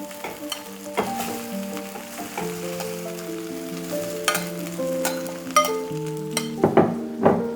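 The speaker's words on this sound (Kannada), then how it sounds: "ಈ ರೀತಿ ಒಗ್ಗರಣೆಗೆ ನಿಮ್ಮ ರೈಸನ್ನು ಆ್ಯಡ್ ಮಾಡ್ತಾ ಹೋಗಿ." Rice being added to a sizzling tempering for chitranna and stirred in a pan, with close crackling sizzle, scraping spoon strokes and a few sharp clinks against the pan.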